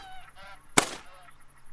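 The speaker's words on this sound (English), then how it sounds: "as soon as you hear a honk, and you just minimise back up and start shooting geese again" Geese honk in theHunter: Call of the Wild, hunting game: faint honks, then one loud, sharp honk near the middle that trails off, with fainter calls around it.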